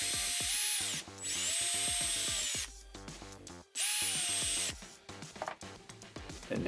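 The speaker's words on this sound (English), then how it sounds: "we'll put a pilot hole there and drill through." A power drill boring a pilot hole during an Arrma Talion XL RC car build, whining in two long sustained runs with short pauses and a stop between them, close to the microphone.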